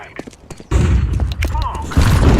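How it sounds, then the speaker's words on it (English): A flashbang grenade thrown in the video game Counter-Strike 2, heard as a few quick clicks and a thump followed by a loud sustained burst of low rumbling noise. "I'm throwing a flashbang."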